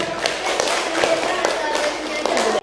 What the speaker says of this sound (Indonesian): kasih tepuk tangan buat Syara